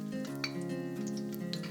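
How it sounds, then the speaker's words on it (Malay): Bruised lemongrass sizzles and crackles steadily in hot oil in a wok, a continuous close frying hiss with a faint underlying hum. "Bila minyak dah panas, masukkan serai yang dititik"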